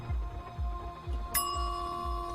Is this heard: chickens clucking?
no